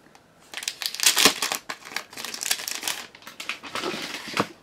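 Paper crinkles and rustles as a package is unwrapped, in bursts of crackling handling noise, close and fairly quiet, with short pauses between.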